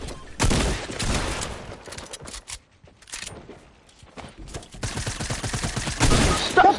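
Video game minigun and SMG fire in sustained rattling bursts, loud and close, with short lulls between volleys and a heavy continuous stream near the end.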